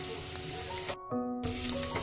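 Chopped onion, garlic and ginger fry in hot oil with a close, bright sizzle that cuts out briefly and then resumes, alongside a faint tonal hum.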